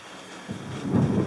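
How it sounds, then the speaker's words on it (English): Thunder rumbles in during a night thunderstorm, a low rolling boom that swells and grows louder toward the end, with no voices. "It's been storming all evening, but we got some bad storms coming in now."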